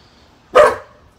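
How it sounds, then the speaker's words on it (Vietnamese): A single sharp dog bark indoors, close and loud, one short burst followed by quiet. "Đó, sủa đi, thấy ai đi ngang, sủa đi."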